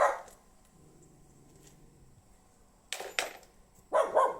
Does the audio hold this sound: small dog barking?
yes